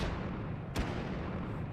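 An RPG-7 rocket launcher fires once in the VR shooting game H3VR, a single sharp, fairly quiet blast partway through over a low steady rumble.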